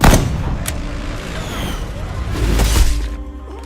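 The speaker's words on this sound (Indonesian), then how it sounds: "Dan ia pun melesatkan satu tembakan yang membuat komandan musuh langsung tumbang." A sniper rifle shot in a war film, a loud sharp crack followed by a booming rumble, with a second heavy blast and low echoing tail, all over a dense battle-scene soundtrack.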